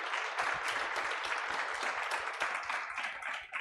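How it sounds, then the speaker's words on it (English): An audience at a panel event breaks into warm applause for the panelists, a dense even wash of many hands clapping for a few seconds before it starts to taper. "I would like to ask for a round of applause for our panelists"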